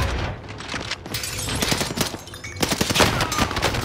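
Video game gunfire: rapid bursts of automatic shots crackling in quick irregular clusters, fairly close and loud, with a brief lull before a denser volley in the second half.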